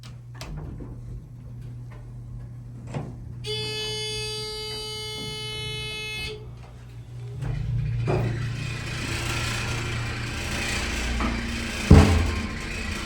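An older Otis Series 1 hydraulic elevator's motor starts up in a Wells Fargo building, a low rumbling drone rising after a high electronic tone and clicks, with a sharp clunk near the end.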